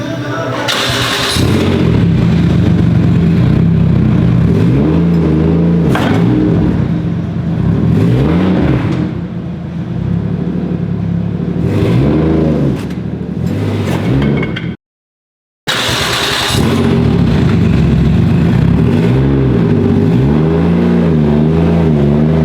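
A Mazda RX-7 FD3S with a 1JZ engine swap revs loudly and launches off ramps in a garage, a close, harsh engine roar that rises and falls repeatedly with a brief cut to silence midway, and a voice talks over it.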